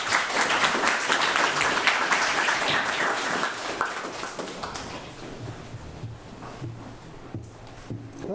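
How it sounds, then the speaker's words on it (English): An audience at a writers' reading event claps an author to the stage, a full round of applause that is loudest early and gradually thins and fades toward the end. "could you please just clap David to the stage, please?"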